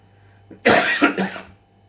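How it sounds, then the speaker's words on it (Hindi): A single close cough burst from a man with a sore throat, a sharp hacking sound followed by a second rougher cough, then quiet. "तो बार बार मुझे खांसी आ रही है"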